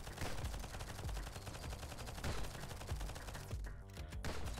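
Rapid, dense gunfire from a sniper rifle rebuilt into a flak cannon in Nimrod: Guncraft Survivor, sounding as a loud, continuous barrage of shots that runs without pause.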